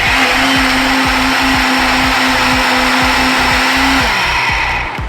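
An electric blender whirs loudly and steadily as it froths cow's milk for coffee, with a constant motor hum and a rapid, rhythmic pulsing; the motor winds down near the end, with no talking.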